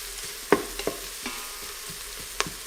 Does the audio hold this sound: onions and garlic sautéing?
yes